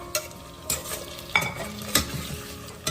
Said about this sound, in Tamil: இந்த தக்காளி வந்து கொஞ்சம் நல்லா மேஷ் ஆகிற மாதிரி வதக்கி விட்டுக்கோங்க